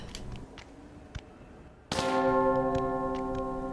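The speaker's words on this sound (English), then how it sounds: "But that has lowered this bell, and now you can shoot it." In the Tomb Raider game, a lowered bell is hit by a gunshot and gives off a sudden loud metallic clang that keeps ringing with a steady, shimmering hum, after a stretch of quiet ambient game sound with faint clicks.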